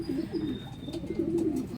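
Racing pigeons back in their loft coo steadily, a low throaty rolling warble repeating in overlapping phrases, close and clear with a faint background hum.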